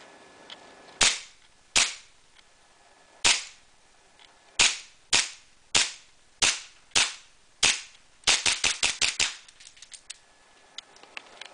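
A Colt M1911 A1 WE gas blowback airsoft pistol fires sharp, close, loud cracks, first spaced out singly, then a quick run of rapid shots before clicking quiet.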